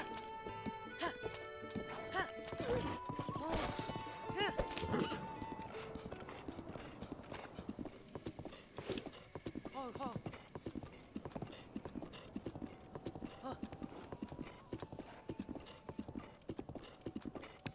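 Horse hooves clip-clop at a steady rhythmic gallop in The Legend of Zelda: Breath of the Wild, continuing throughout under game music and a brief whinny, with someone talking over it.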